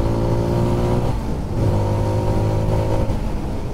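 A Zontes 350R motorcycle engine revs up close, its droning pitch climbing, dipping briefly and climbing again over a few seconds with no voices.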